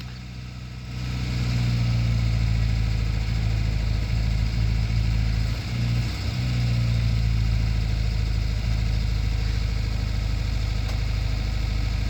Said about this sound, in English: Well, it's idling like a champ.